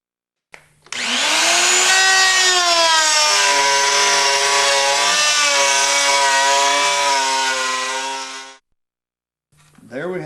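A Woodmaster molder runs a curved wood blank through its cutters, giving a loud, steady high whine with a shifting pitch for about eight seconds before it cuts off, and brief machine noise follows.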